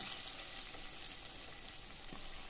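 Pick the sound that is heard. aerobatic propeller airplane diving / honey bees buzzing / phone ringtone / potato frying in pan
potato frying in pan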